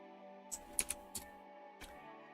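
A handful of sparse, quiet keyboard taps while building a website, a few isolated clicks over a faint steady hum, with no talking.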